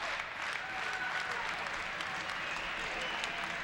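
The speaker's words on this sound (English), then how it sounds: "As the crowd getting into it, trying to will their Mustang team to a victory." A crowd applauds steadily throughout at a college men's basketball game, a dense, continuous wash of clapping heard close and loud with no break.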